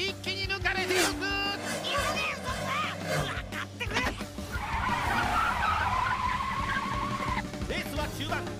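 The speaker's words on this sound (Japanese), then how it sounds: "あーっとここでスリップ一気に抜かれていく" A cartoon racing car in a One Piece race slips and skids, letting out a long tire squeal and engine roar amid busy race sounds, with voices speaking over it.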